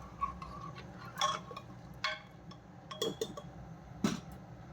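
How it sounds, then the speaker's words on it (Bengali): A pressure cooker lid is set and fitted onto the cooker in a home kitchen, giving a few sharp metallic clinks and taps spaced about a second apart over quiet background hiss. "ব্যাস এখন কুকারের ঢাকনটা লাগিয়ে দিচ্ছি।"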